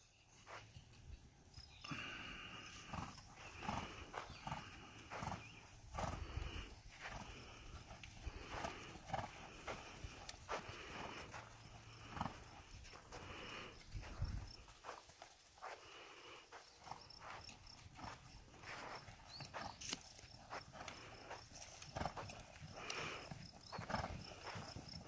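Hooves of a horse clip-clop in a steady trotting rhythm during a beginner equitation riding class, moderately close and continuous, with faint insect chirping in the background.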